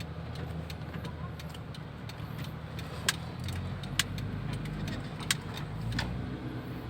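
A tuned 2010 Honda Freed out on a road test drive, its engine giving a steady low interior drone with a few faint ticking clicks and no one talking.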